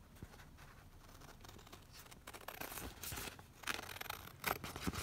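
Scissors cutting paper for a layered envelope stack: a continuous close, scratchy paper rustle that grows louder and crisper toward the end, with no talking.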